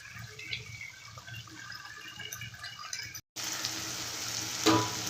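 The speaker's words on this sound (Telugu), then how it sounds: "ఇది కలుపుకుంటూ ఉండాలండి అల్లం వెల్లుల్లి వేసినాం కాబట్టి కొద్దిగా అడుగు ఉంటుంది" Tomatoes with ginger and garlic sizzle steadily in a pan as they are stirred, a continuous close frying hiss with soft scraping, briefly cut off and then returning louder, with no talking.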